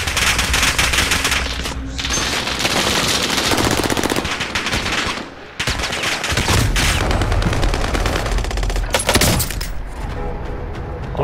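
Sustained automatic gunfire from a Call of Duty Warzone match, dense and loud rapid bursts running nearly the whole time with only a brief lull midway.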